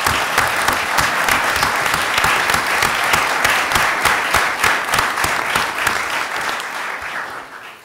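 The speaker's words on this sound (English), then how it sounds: "Let's give them a round of applause." Audience applause at a government announcement on protections for people with special needs, a dense, steady patter of many hands clapping throughout, tapering slightly toward the end.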